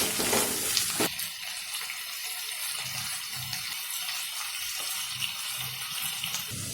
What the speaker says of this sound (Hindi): इसमें ऐड करेंगे शिमला मिर्च और टमाटर। इसे भी अच्छे से भून लेंगे।